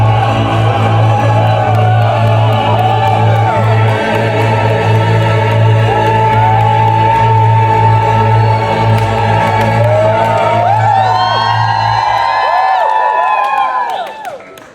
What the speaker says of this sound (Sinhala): හැමෝම ක්ලැප් කරලා අපිට ආචාර්ය කරනවා